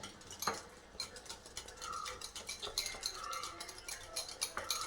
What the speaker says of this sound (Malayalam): ടീസ്പൂണോ ഫോർക്കോ എന്തുകൊണ്ടെങ്കിലും ഒന്ന് ഇളക്കിയാൽ മതി